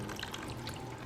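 Water pouring and trickling over boulders and pebbles in a small model river, a steady, close splashing flow throughout.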